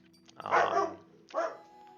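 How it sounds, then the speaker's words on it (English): A dog barks in two loud bursts, a longer rough bark followed by a shorter one, close by with no talking. "that's just my girlfriend's dog barking at the neighbors"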